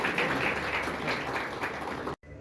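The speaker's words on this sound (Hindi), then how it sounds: "जोरदार तालियों से स्वागत करें।" At an honouring ceremony for Covid-19 frontline workers and village and town protection committee members in Manasa, a crowd claps loudly and densely for about two seconds before it cuts off abruptly.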